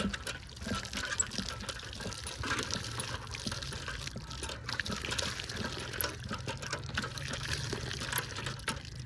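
Running water from a tap while someone washes hands and face, a steady, faint splash and trickle that continues throughout.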